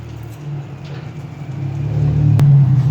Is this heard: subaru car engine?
yes